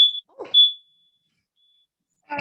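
A smoke alarm gives two short high-pitched beeps, the second trailing into a thin fading tone, in an otherwise quiet indoor setting, followed by a brief muffled rustle.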